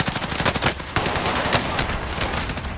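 Sustained automatic gunfire in a Call of Duty Warzone Rebirth battle royale match, dense rapid bursts of shots running continuously and loudly throughout with no talk.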